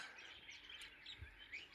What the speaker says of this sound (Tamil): பின்னாடி கத்துறது எல்லாமே குருவி தான்.